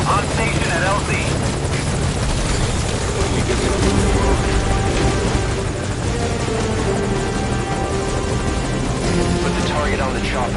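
A helicopter in the video game Metal Gear Solid Ground Zeroes gives a loud, steady rotor drone that continues throughout, with faint voices beneath it.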